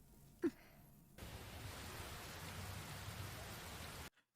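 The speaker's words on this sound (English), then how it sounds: "we must be in the rainy season, because my god, it rains every fucking day in this show" Steady rain falls in an anime scene, a broad wash of hiss that holds evenly for several seconds after a brief quiet opening with a short faint sound, then cuts off abruptly.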